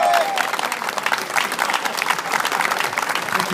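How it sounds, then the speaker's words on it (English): Audience applause at a World Outdoor induction ceremony, a dense, steady clapping that fills the hall throughout at a loud, even level. "Let's give him another round of applause, guys"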